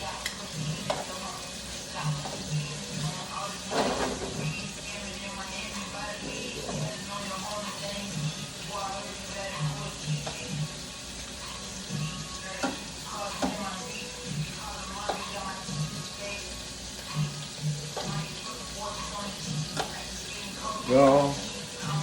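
Onions and lamb fry in a pan with a continuous soft sizzle, broken by scattered spatula stirs and scrapes, building to a louder clatter near the end.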